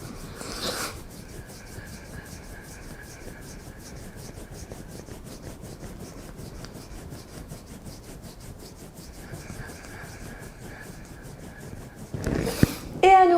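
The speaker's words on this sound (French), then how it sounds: "on va venir frotter comme ceci sur les ailes du nez" Thumbs rub up and down the sides of the nose in a self-massage, a steady close dry rubbing that runs continuously, with a louder burst of handling noise near the end.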